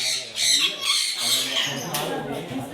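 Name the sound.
birds squawking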